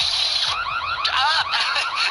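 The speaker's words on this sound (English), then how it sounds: "Turns out the alarm works." A house alarm in a Geico commercial wails loudly and close with rapidly rising and falling electronic sweeps that repeat without pause.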